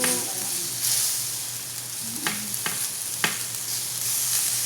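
A homemade hamburger patty fries in a pan with a steady, moderate sizzle and a few soft clicks of a utensil, close by and without speech.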